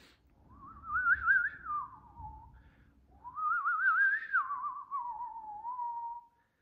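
A person whistles an imitation of a cowbird's tune, two clear warbling phrases that rise, trill and then fall, close and moderately loud, with a pause between them and no talking.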